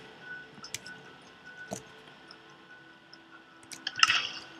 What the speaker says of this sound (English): a working shower